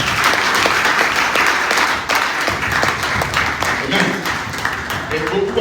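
A church congregation applauds steadily and loudly throughout, dense clapping filling the space with crowd voices mixed in.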